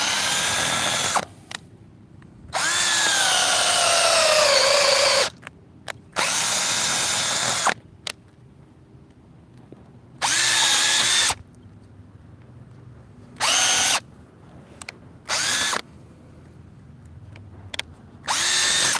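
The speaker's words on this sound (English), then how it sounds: "not a bad little drill driver" A Teccpo TDCD3P 20V cordless drill driver whirs into wood in a series of short, loud bursts, several seconds apart, with quiet gaps between them.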